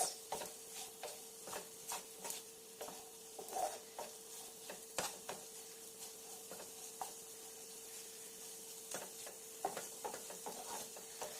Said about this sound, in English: You cannot leave okra, you have to keep stirring it every now and then.